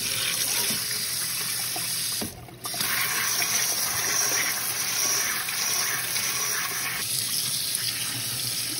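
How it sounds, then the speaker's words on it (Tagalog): Chicken pieces rinsed under running tap water in a strainer after boiling, a steady, loud, close gush with a brief break partway through and no talking. "ating ito i-strain dito. Ayan, hugasan natin."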